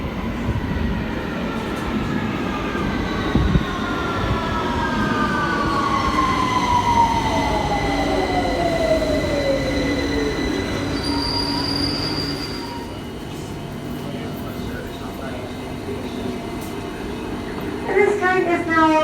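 A London Underground train pulls away from the platform, wheels squealing in long sliding tones over a loud rumbling roar, with a voice speaking over the noise.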